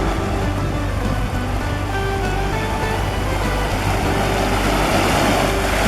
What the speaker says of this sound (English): Across the stream here.